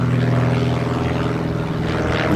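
Propeller airplane circling overhead, its engine drone loud and steady with a pulsing low hum, fading slightly as it moves across the sky.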